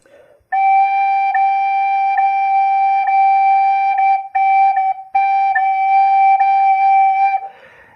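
A side-blown spirit flute plays a few clear, sustained notes legato with soft tonguing, the smooth pure tone broken by only slight gaps between notes, near and loud.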